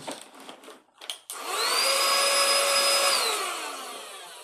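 A cordless handheld vacuum switches on after some rustling and runs steadily with a high whine, close and loud, then its pitch sags slightly near the end.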